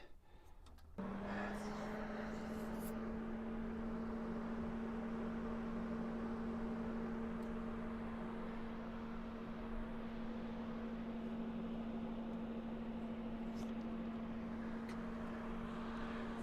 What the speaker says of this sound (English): here comes the fan.